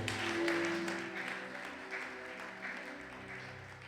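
A church congregation at a Sunday thanksgiving service applauds in a steady, fairly faint wash of clapping, with a sustained tone and music lingering underneath.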